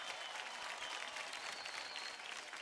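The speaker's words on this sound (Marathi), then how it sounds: "जोरदार टाळ्या होऊन जाऊ दे" An audience on a Marathi televised dance competition stage breaks into loud, sustained applause, a dense wash of clapping that holds steady for the whole stretch with a faint crowd murmur underneath.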